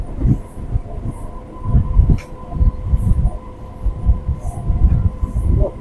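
The Goghat local passenger train runs on rails between harvested paddy fields, producing a loud, continuous low rumble with rhythmic surges from the wheels and a steady hum, heard from on board.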